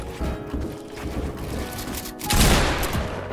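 Rapid shotgun blasts and clattering gunfire in a shooter video game, loud and dense with a heavier burst near the end.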